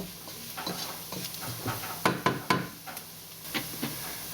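Spices and onion roasting in a pan for coconut curry chicken, a soft hiss under irregular stirring knocks and scrapes of a utensil against the pan, quiet and without speech.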